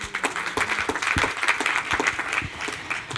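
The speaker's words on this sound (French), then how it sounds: "on peut l'applaudir" An audience at an evening event applauds a speaker coming on stage, dense sustained clapping from a crowd with scattered louder claps throughout.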